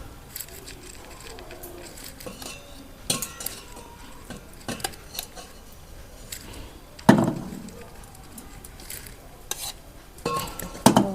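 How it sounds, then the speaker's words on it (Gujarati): A spoon stirs ghee and fried edible gum heating in a pan, producing close scraping and clinking against the metal with soft sizzling underneath, in irregular bursts with a louder scrape near the middle. "હવે આપણે થોડુંક ઘી લઈ અને થોડુંક ગરમ કરી નાખશું એટલે બધું મિક્સ થઈ જાય।"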